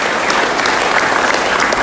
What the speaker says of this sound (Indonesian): Tepuk tangan dulu buat kakak-kakak kalian.